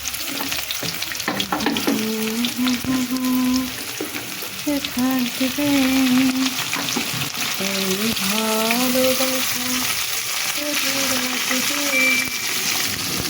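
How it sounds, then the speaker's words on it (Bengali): Onions and garlic frying together in a pan make a steady, close sizzle with stirring, while a voice talks over much of it. "পেঁয়াজ একসঙ্গে ভেজে নেবো আলাদা আলাদা করে ভাজবো না"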